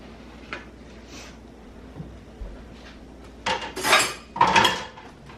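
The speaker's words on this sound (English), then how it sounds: "Can you see if Shaun can do another load of dishes?" Dishes and cutlery clink and clatter during washing up at home, starting with soft scattered knocks and building into a few loud, close bursts of rattling plates and silverware near the end, with no talking.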